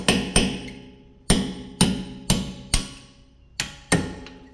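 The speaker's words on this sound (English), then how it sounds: "you can't just keep hammering straight" A hammer drives a brake pad pin through a Brembo caliper on a Cadillac CT6: eight sharp metallic strikes in uneven pairs and singles, each ringing briefly, close and loud.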